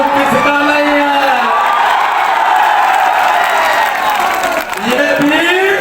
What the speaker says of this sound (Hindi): ये भीड़